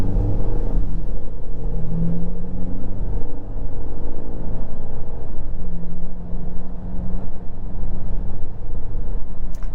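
A 2023 BMW X1 xDrive28i, heard from inside the cabin, gives a steady low engine rumble and hum throughout as its automatic start-stop system restarts the engine, with a slight swell in the drone.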